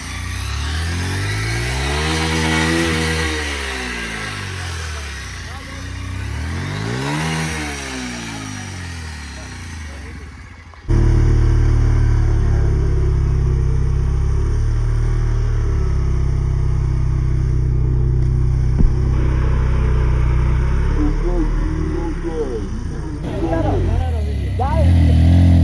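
A TVS motorcycle engine revs as the bike is tried against layers of stretched tape strips. The engine pitch rises and falls twice, then settles into a loud, steady drone, with people talking throughout.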